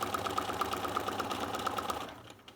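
A sewing machine stitches back and forth over an appliqué, a steady rapid mechanical whir with a regular needle pulse that fades out near the end.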